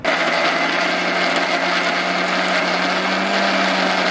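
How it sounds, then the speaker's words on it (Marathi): Kitchen blender grinding coriander, green chilies, garlic and ginger into a paste: a loud, continuous, high whirring motor with a steady hum, running without a break throughout. "पहिलं आपल्याला ना हे कोथिंबीर, मिरच्या, लसूण आणि आलं वाटून घ्यायचंय"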